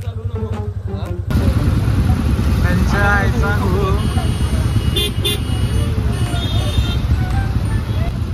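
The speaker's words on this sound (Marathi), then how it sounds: "हे बघा पुण्याचा ट्रॅफिक आपल्या." Busy Pune city street traffic, with engines and motorcycles rumbling close by and car horns tooting repeatedly, several short honks overlapping, while people talk over the noise.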